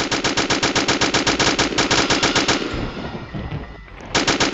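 Rapid sustained bursts of MG-42 machine gun fire in a Roblox game, loud and continuous, pausing briefly near the end before another burst starts.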